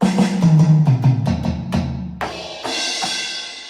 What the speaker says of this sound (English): The next drum kit sounds like this.